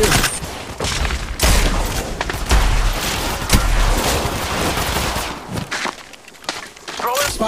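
Rapid gunfire bursts in Apex Legends Mobile, sharp close shots and heavy thuds layered over busy battle noise, with game voice callouts mixed in.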